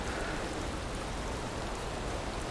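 A constant downpour of rain in the video game Valheim patters and hisses evenly throughout, soft and unbroken, with no talking.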